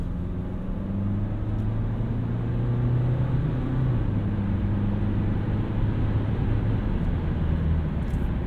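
Steady low engine drone and road rumble inside a 2015 Chevrolet Cruze diesel as it accelerates, a continuous, fairly loud cabin hum with rising tonal engine notes and no talking.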